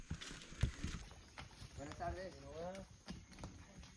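Hooves of horse-like pack animals walking on a jungle trail in Colombia, irregular soft clip-clop steps close by, mixed with people talking nearby.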